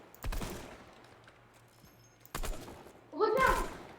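A weapon firing in Fortnite Creative mode, heard as three separate short bursts spaced a couple of seconds apart, fairly quiet, with a voice speaking during the last one.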